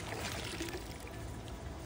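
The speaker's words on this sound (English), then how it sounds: "So what I'm gonna do, fill it up with water." Water pours steadily into a small vial from a pool chemical test kit, a continuous close splashing rush with no pause, alone without talk.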